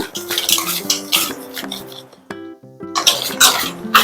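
Batter for Mysore bajji being mixed with salt in a bowl, giving clinks and scrapes of a utensil against the bowl with a wet stirring sound, close and fairly loud, under intermittent humming or background tones.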